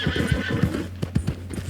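Horse in a video game whinnying while its hooves clop in a steady, rapid rhythm, the neigh sitting high above the hoofbeats at moderate loudness.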